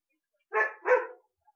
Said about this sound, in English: that's the dog barking I was afraid of